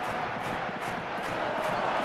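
A dense football stadium crowd roars continuously during the Borussia Dortmund vs Real Madrid Champions League final 2023/24, a broad, loud wash of voices reacting to a defensive play.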